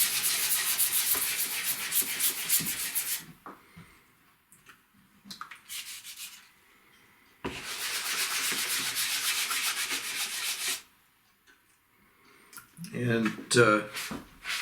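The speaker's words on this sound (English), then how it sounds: "and wet sand it." Walnut wood is wet sanded by hand with 3M Pro Grade Precision sandpaper on a block, giving two long bursts of steady scratchy rubbing, with someone speaking briefly between and after them.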